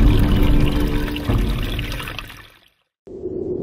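Water pours from a spring fountain in the Sondondo Valley, a loud, dense rushing splash that weakens, cuts to silence for a moment, then returns more softly.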